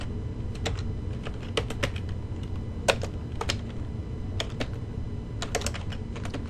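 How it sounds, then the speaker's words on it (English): Typing on a computer keyboard, entering a vendor name into a search box in accounting software: irregular bursts of crisp key clicks, close and moderately loud, over a steady low hum with no talking. "Let's start with typing in a vendor name."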